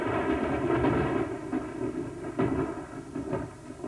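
Low, rolling thunder rumbles during a thunderstorm, moderately loud with a few swelling peaks and crackles over a steady dark rumble, no voices present.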